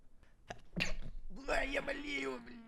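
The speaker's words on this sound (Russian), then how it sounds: "Сейчас чихну, погодите." A single sneeze from a man with a sick cold, a sharp intake and burst followed by a drawn-out voiced tail, close and indoors, amid brief clicks.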